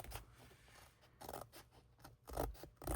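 Scissors snip and trim small leftover pieces off thin metal cutting dies, a series of quiet, close, crisp cuts and scrapes in an irregular rhythm, with no talking.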